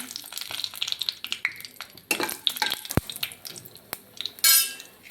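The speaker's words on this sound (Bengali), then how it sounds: "এবার এর মধ্যে আমি দিয়ে দেব গরম মশলা, শুকনো লঙ্কা" Garam masala and dried chillies sizzle in hot oil, with crackling bursts, a sharp clink of utensil on pan, and a bright hiss swelling near the end, close and fairly loud with no voices.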